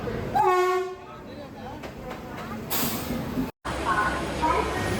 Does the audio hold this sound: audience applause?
no